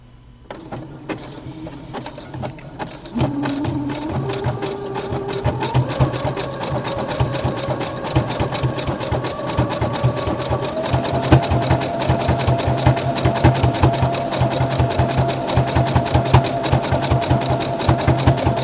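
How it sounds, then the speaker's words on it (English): A sewing machine top stitches fabric with a fast, steady mechanical chatter, sewing a black strip beside leopard-print fabric; it runs close and loud for most of the clip after a brief quieter start. "I'm going to top stitch again on the black part. Lock stitch it in."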